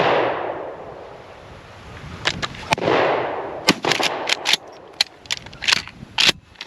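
Shotgun blasts at a pheasant shoot, with sharp, loud reports and clicking mechanical sounds clustered in the second half after a quieter windy stretch, close by and without speech.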